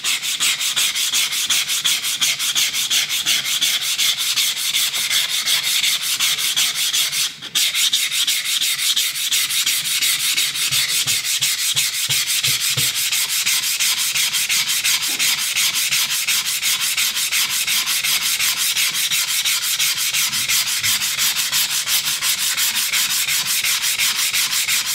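Steady, continuous rasping of wet sandpaper rubbed back and forth over a Castilian knife's steel blade, close and loud, with a brief pause partway through.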